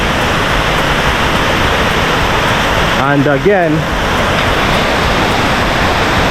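A waterfall in Bali roars as a steady, loud rush of broadband water noise that fills the whole clip, with a brief spoken voice partway through.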